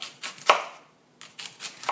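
A knife scores a fennel bulb on a cutting board, giving a few crisp, close cuts and taps in an uneven rhythm with a short quiet gap between them.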